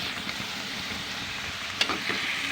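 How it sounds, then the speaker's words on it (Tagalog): Squid goes into a hot pan with garlic and onion for sweet adobong pusit and hisses in a continuous, moderately loud frying sizzle. A brief clink or scrape of a utensil comes near the end. "lagyan na natin ang ating pusit. Ayan na. Tumagitsit na guys."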